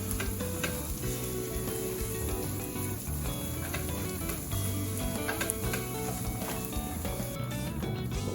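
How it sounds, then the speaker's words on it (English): Tomato paste and vegetables sizzle in a pan over medium heat, a dense, continuous crackling fry that stays loud and even throughout, with occasional stirring scrapes and no speech. "We want to cook this on about medium heat for several minutes just to begin to remove that sharp raw tomato taste."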